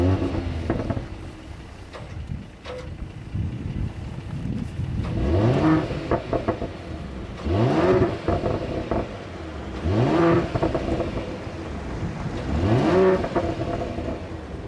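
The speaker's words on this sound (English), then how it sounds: "this car also has the AMG Performance exhaust system. And that sounds like this." A 2020 Mercedes-AMG GLE 53 with the AMG Performance exhaust system, revved repeatedly in short rising bursts roughly every two and a half seconds, the engine note climbing and falling back to idle, close and loud with no talk.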